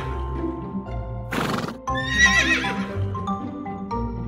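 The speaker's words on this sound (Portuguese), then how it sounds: "É um cavalo." A horse whinnies loudly over a bright musical backing, a shrill rising neigh in the middle after a brief noisy burst.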